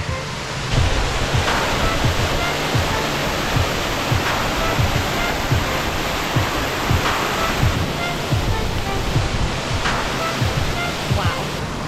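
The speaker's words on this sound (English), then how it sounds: "I think there's a waterfall coming up." A waterfall on a Madeira hiking trail gives a loud, continuous rushing roar that stays steady throughout, with faint low thumps mixed into the wash of water.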